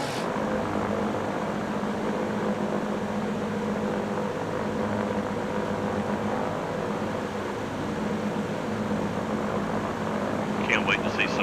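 Steady, broadband propeller-engine drone of a C-47 Skytrain's twin piston engines in Microsoft Flight Simulator, heard from outside the aircraft as a constant loud rumble throughout, with a few brief higher chirps near the end.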